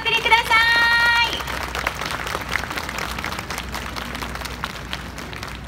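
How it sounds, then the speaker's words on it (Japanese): A festival crowd applauds after a taiko drum performance at the Yanagawa Yokamon festival in Japan. A brief sustained tone opens, then a broad, steady clapping rolls on at moderate loudness. "今一度大きな拍手をお送りください。"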